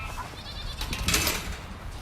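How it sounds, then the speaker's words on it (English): Goats in a farm pen at morning feed give a single faint bleat against a low background rumble, with no talk. "you'll see all of the goats running down"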